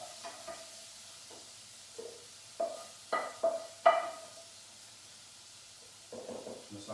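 Ravioli peperonata spooned into a pan: soft scrapes and a few clinks of a spoon over a faint background hum and light sizzle, close and moderately quiet, with no talking.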